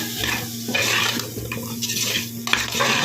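A millet dish with turmeric being mixed in a pot, close clattering scrapes of a metal spoon against the pot in quick, uneven strokes, with a low background hum throughout.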